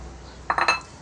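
Metal utensil clinking against a bowl while fish kinilaw ingredients with ginger are stirred together, a quick cluster of three or four bright taps close by with no voices.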